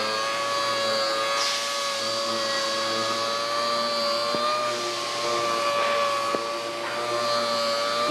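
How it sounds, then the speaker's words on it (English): Orbital sander with 180 grit paper runs against a wooden door, giving a steady, loud whirring drone with a high whine that holds for the whole stretch, no talking. "This is a 180 grit and an orbital sander that we always use around here forever."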